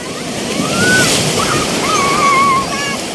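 Sea waves washing onto the shore, a broad, rolling roar of surf swelling and easing, loud and close with wind buffeting the microphone and faint high whistling tones over it.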